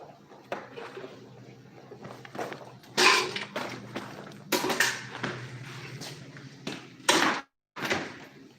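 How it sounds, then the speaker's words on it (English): A door inside a shipping container converted into a small business space is closed, giving several sharp knocks and a solid slam amid shuffling and handling noises. "Close this door."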